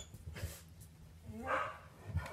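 A dog gives a few short barks and whimpers at close range, with quiet gaps between the sounds.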